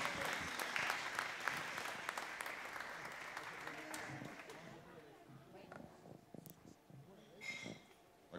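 An audience at a live motorcycle Ride Tribe Talks event in Romania applauds: dense clapping fills the first few seconds, then thins and fades to scattered claps and room noise.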